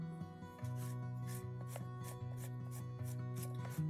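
The rear lens cell of a Petzval lens is being unscrewed by hand. Soft rhythmic rasping rubs repeat in quick strokes, close and quiet, over a faint steady hum.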